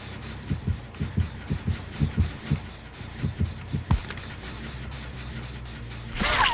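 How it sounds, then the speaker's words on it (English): Heartbeat in Dead by Daylight, a steady run of deep thumping pulses for about four seconds, loud and close, then quieter game ambience with a brief sharp burst near the end. "why do I hear 2 heartbeats and I can't find one?"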